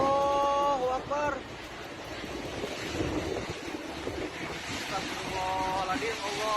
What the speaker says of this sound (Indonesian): Angin puting beliung.